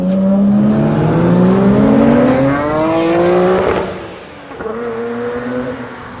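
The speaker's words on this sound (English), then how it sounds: "Let's put down the windows so you can hear a little bit of this noise of the RB26 second gear 3000." The Nissan R32 Skyline GT-R race car's RB26 engine pulls hard in second gear, heard loud and close from inside the cabin as the revs climb steadily, dip on a shift, then build again.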